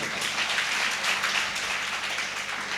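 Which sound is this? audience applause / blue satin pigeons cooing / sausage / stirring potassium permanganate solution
audience applause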